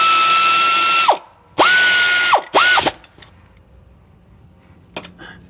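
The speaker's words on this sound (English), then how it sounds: "Get my ratchet on there." A ratchet wrench clicks loudly in three bursts, a long one, another long one and a short one, while tightening the bolt on a car's idler pulley during a serpentine belt and alternator job. Faint clicks and clatter follow in a quieter workshop.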